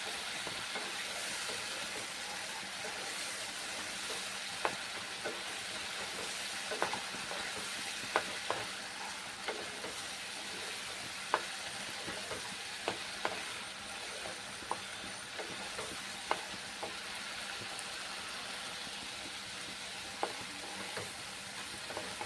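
Tomato, onion and garlic paste for a rui posto fish dish is sautéed in a pan, a soft continuous sizzle with scattered ticks of the spoon as it is stirred, quiet and steady with no talk.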